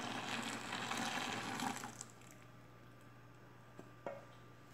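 Melted homemade bleach soap poured into a bucket gives a steady liquid pouring rush for about two seconds, then quieter trickling with a couple of small splashes, close and fairly soft.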